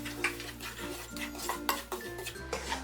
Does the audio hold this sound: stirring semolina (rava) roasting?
yes